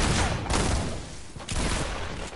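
Rapid bursts of Fortnite gunfire fill the space, loud and dense, with a few sharp shot peaks standing out over a continuous clatter of in-game combat.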